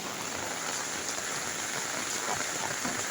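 Light rain falls steadily on a flooded street, a dense, even hiss of drizzle with no breaks and no voices.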